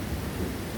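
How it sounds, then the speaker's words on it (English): Thunder rumbles steadily through a summer storm in DC, a dense low roar with rain-like hiss, filling the brief moment without any speech. "And the thunder has just been insane."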